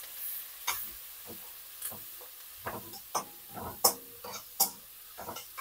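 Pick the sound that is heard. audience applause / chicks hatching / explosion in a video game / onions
onions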